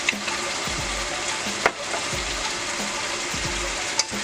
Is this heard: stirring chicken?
yes